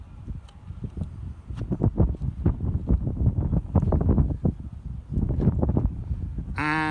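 Strong wind buffets the microphone outdoors by the sea in Dieppe, France, a loud, gusting low roar that stays constant throughout, with a brief tonal sound at the very end.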